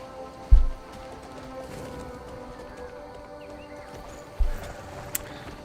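In the video game Crimson Desert, two heavy low thumps about four seconds apart over a steady ambient bed as a horse is mounted and ridden, with faint hoof-like clopping and a brief high blip near the end.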